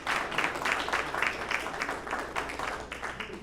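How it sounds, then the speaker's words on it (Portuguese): A seated audience at a community forum on democracy and environmental education claps together, a fairly soft and steady round of applause heard from a distance with no talk over it. "por un aplauso para todos."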